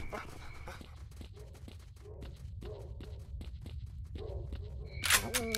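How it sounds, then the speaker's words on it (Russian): Dogs in S.T.A.L.K.E.R. Shadow of Chernobyl whimper and yelp in a run of short, fairly faint cries over a steady low rumble, ending in a sharp bright burst. "Собаки противные"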